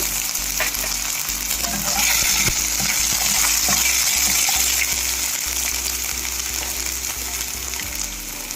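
Ingredients with finely cut ginger frying in a pan for potato bread masala dosa, a loud, steady sizzle with scraping stirs and clicks from the pan, no talk.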